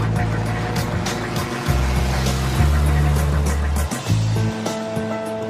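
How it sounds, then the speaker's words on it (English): Apollo Jetstar microlight aircraft with a Rotax 4-cylinder engine drones steadily and loudly throughout, its pitch shifting as it passes, with broadband wind and rushing noise. "these machines can fly 2 men with a powerful Rotax 4-cylinder engine."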